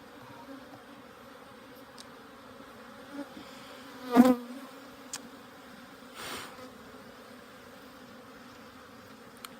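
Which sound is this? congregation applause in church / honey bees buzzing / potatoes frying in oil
honey bees buzzing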